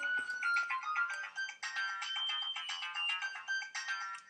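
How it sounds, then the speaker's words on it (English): A mobile phone ringtone plays a bright, repeating electronic melody in short phrases, fairly quiet and alone throughout. "Oh, my phone's going, sorry."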